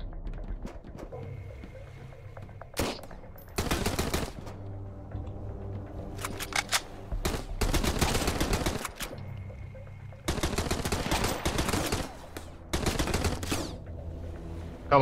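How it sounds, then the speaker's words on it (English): In the survival game Sunkenland, a boat-mounted machine gun fires loud, rapid bursts of automatic gunfire, several long volleys broken by short pauses and scattered single shots. "So they have a machine gun on the top."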